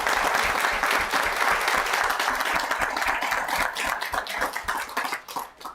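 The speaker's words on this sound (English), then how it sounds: "Please join me in applauding this year's business nominees" Applause at a town council meeting for local business nominees, a roomful of people clapping steadily and fairly close, thinning out toward the end.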